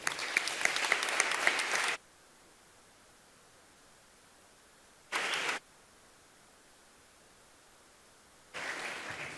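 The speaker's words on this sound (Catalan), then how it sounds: "fins ara aquest s'havia d'aplaudir" An audience at a celebration of children's and youth literature breaks into applause three times. The first burst lasts about two seconds, then a brief clap follows, then another burst begins at the end, with quiet between them.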